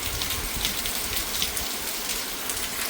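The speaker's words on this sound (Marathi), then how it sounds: "आपला भयानक पाऊस सुरू झाला" Heavy rain pours steadily in a village in Maharashtra, a dense continuous hiss of drops pelting hard surfaces close by, with no voices.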